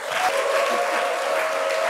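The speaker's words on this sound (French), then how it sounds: "vous pouvez vous applaudir." A studio audience at a French television show applauds loudly and continuously, a dense, even burst of clapping with a faint tonal hum beneath.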